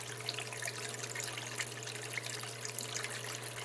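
Pumped water pours steadily over a gold sluice mat while black beach sand from Lake Huron is worked. The rushing, trickling flow is continuous and close, over a low, constant pump hum.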